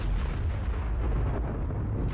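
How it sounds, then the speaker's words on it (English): Repeated booming explosions from the survival video game Primal Fear on hard mode, a dense, continuous low rumble of blasts filling the whole stretch without voices. "The explosions are probably why."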